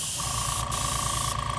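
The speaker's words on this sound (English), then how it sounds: "And I'm spraying, I realize I'm spraying clear paint." A steady, close hiss of an aerosol can spraying clear sealer paint onto a squirt gun, continuous for over a second with a brief pause midway.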